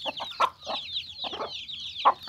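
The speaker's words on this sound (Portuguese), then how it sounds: "Pessoal, vocês lembram daquelas pintinho pequeno?" Young chickens on a small home flock cluck in short, repeated bursts close by, with soft chirping and peeping running continuously underneath.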